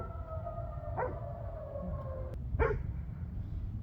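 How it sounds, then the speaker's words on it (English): A fire whistle sounds a steady wailing tone from a distance, then cuts off, with a couple of brief dog yelps over low rumble. "got the fire whistle going off"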